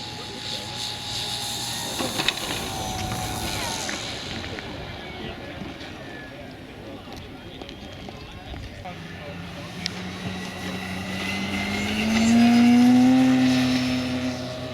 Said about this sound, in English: Just taking off in that beautiful plane is James Lashmit from San Jose, California.